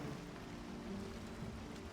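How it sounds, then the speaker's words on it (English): Steady rain pours in the Valheim game world over open water near a raft, a dense, continuous hiss with a low rumble underneath, constant and fairly loud for the whole stretch with no voices. "It's raining."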